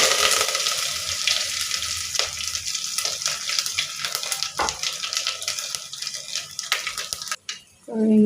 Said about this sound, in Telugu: ఆయిల్ కాగాక మినపప్పు, ఆవాలు, జీలకర్ర, వెల్లుల్లిపాయ, కరివేపాకు, ఎండుమిర్చి ఇవన్నీ కలిపి తాలింపు పెట్టుకోవాలి.